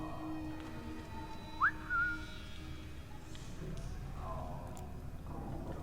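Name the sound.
character whistling in video game Assassin's Creed III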